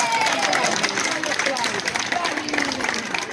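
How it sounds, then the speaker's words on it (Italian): An audience at an outdoor multiethnic food festival in Montemitro, Molise, applauds in a steady, dense wash of clapping with some cheering, loud and sustained throughout. "Un applauso."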